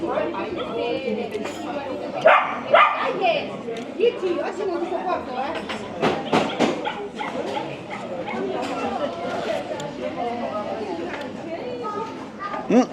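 Dogs bark and yip intermittently on a street amid steady chatter from nearby people, the barks standing out in a few louder bursts.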